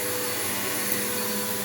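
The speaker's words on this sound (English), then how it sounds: "When you vacuum, you actually want to give your vacuum enough time to really dig in" A Bissell PowerForce Bagless 6583 vacuum cleaner runs on living room carpet, a loud, steady close roar with a high whine and no pauses or talk.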